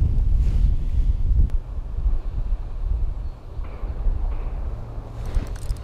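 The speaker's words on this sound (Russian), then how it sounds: "Только ветер, зараза, усилился, он очень холодный." Cold wind gusting by a lake during spring spinning fishing, a steady loud rumbling roar buffeting the microphone throughout with no speech.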